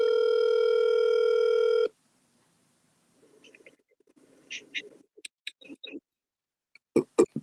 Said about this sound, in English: I don't know why Doc's phone is not working